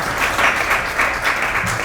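An audience at a Christian media forum gives a short burst of dense, steady clapping to welcome a speaker, loud and close.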